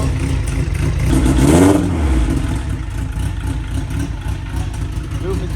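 A car engine with an exhaust missing its downpipe revs once, loud and raspy, then settles back to a rough idle. Voices talk over the engine noise.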